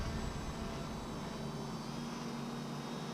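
A Hobbyking paramotor engine with a jiffy propeller runs steadily below full throttle, a continuous broadband drone with a low hum, close and fairly loud with no pauses.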